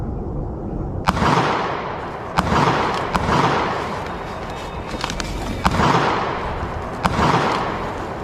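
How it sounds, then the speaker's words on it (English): Gunshots ring out at night near a campsite, a handful of sharp, loud cracks spaced a second or so apart over a constant rushing roar of outdoor noise. "why the gunfire in the dead of night?"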